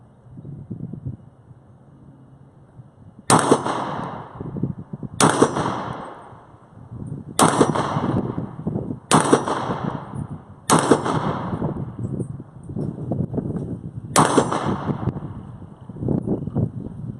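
Six loud, sharp gunshots at a CTS steel target outdoors, spaced a couple of seconds apart, each with a crisp crack and a rolling echo over steady wind noise.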